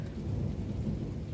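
Summer thunderstorm thunder, a low continuous rumble that fills the whole short stretch at steady loudness, with no voices.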